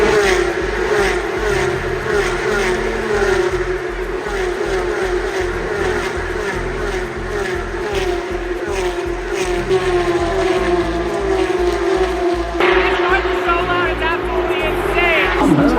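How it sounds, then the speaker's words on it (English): Forty identical Porsche 992 GT3 Cup race cars roar past together in a loud, steady wall of engine noise that rises and falls with passing cars, with a voice talking over it. "we've got 40 identical 992 GT3 Cup cars racing at the same time for the next 40 minutes"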